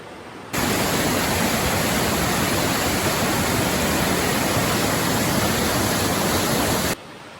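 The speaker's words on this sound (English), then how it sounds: "It's the Salmon River." Salmon River on Mount Hood rushing steadily, a loud, dense broadband wash of flowing water close by, beginning abruptly and holding constant with no voices.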